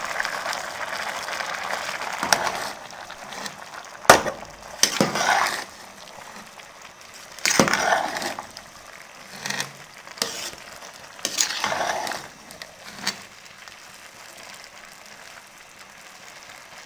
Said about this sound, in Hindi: अब इसको हम अच्छे से मिक्स कर देंगे।